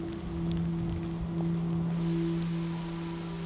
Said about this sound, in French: Quelques heures plus tard, il se met à pleuvoir.